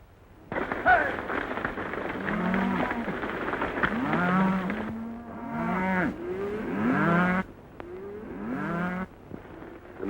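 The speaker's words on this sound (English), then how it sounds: "A nice bunch of cattle you're sending to market, Mr. Dawson." A herd of cattle being driven to market bellows and moos repeatedly in overlapping, drawn-out calls, fairly loud and close over a steady low rumble of hooves and movement.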